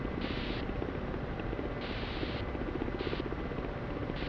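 A Ka-50 Black Shark attack helicopter in the flight simulator DCS World gives a steady, loud rotor and turbine roar, with a high whine that pulses on and off at intervals and no talk.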